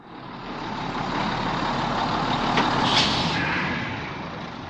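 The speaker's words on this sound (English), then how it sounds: "Listen, the bus is at the bus stop." A city bus pulls up at a stop with a swelling engine and tyre roar that peaks midway, then a brief hiss of air brakes before the sound eases off.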